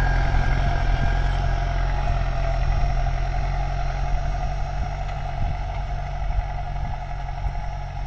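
A steady, loud engine drone from a Deutz-Fahr Agrolux 80 HP tractor pulling a 13-tine cultivator, a constant low rumble under heavy load, with no voices.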